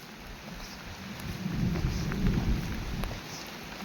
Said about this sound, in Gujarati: સારો વરસાદ થઈ ગયો છે અને હજી પણ ચાલુ છે